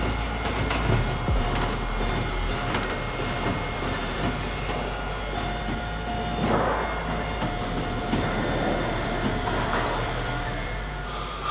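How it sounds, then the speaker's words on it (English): An NTM SSQ II MultiPro roof panel machine jogs metal panel material through its sets of rollers. Its steady mechanical rumble and whir carries faint clanks and squeaks, and it stays even and continuous for about twelve seconds with no talking. "We just want to move the material through the machine one set of rollers at a time."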